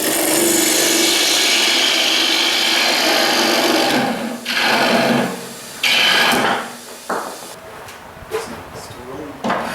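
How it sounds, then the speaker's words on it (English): Drilling a depth hole into a wooden bowl blank turning on a lathe, a loud grinding, rasping whir that stops and restarts in several bursts before trailing into quieter scraping. "I am going to drill a depth hole"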